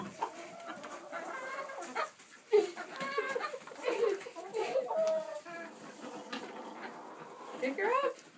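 Chickens cluck in short, scattered calls close by, mixed with rustling and movement while people talk over them.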